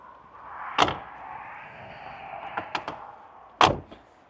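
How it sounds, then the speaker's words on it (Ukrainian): Heavy door of a tall US-imported car with a step board slammed shut, two loud close thuds with a few lighter clicks and knocks between them. "Двері так треба добре закривати, так як вони дуже важкі."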